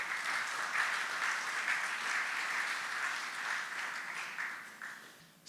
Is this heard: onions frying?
no